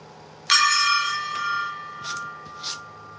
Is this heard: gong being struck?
yes